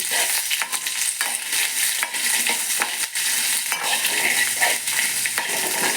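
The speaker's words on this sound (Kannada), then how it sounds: "ಸ್ವಲ್ಪ ಫ್ರೈ ಮಾಡೋಣ" Sardine fish pieces fry in coconut oil in a pan, with a steady bright sizzle and repeated scraping stirs of a utensil against the pan, close and continuous, with no voices.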